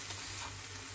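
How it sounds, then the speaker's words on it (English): Vegetables sautéing in a hot frying pan for a salmon dish, a steady close hiss and sizzle alone. "Saute"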